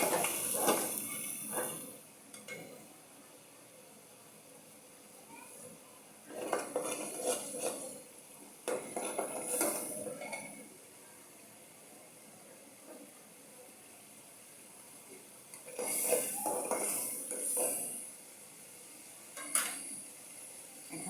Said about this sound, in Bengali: আমার মশলাটা কষানো হয়ে গেছে, একটু নাড়াচাড়া করে নেব